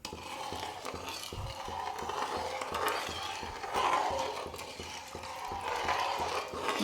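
A spoon scrapes and stirs sugar water with kesari powder in a pan on the stove, making soft repeated clinks and scraping strokes in a loose rhythm, close up and fairly quiet.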